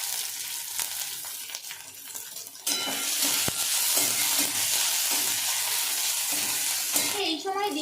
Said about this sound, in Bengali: এই সময় দিয়ে দিচ্ছি পেঁয়াজ কুচি। এখানে একটা পেঁয়াজকে স্লাইস করে নিয়েছিলাম। আর সঙ্গে দিয়ে দিচ্ছি স্প্রিং অনিয়নের নিচের অংশটা।